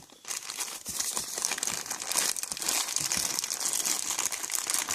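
Continuous crinkling of a plastic zipper bag, close and steady for several seconds, with sharp crackles throughout and no talking.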